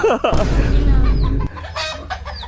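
Chickens cluck nearby, with a burst of rough, noisy rustling in the middle and a few more clucks afterward.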